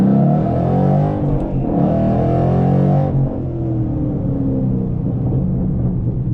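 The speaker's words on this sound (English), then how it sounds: "Driving the 2014 Mustang GT, as you can see, just cruising" A 2014 Ford Mustang GT with an MT82 manual transmission cruises along, its V8 giving a loud, steady, deep rumble from inside the cabin, with a brief dip as the engine note shifts partway through.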